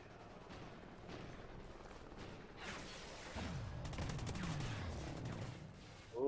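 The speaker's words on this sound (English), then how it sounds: "Somebody's behind us trying to shoot at us." Gunfire crackles in Call of Duty Ghosts, fairly quiet and distant: scattered shots build into a dense burst of rapid fire near the middle, under a low game-ambience rumble.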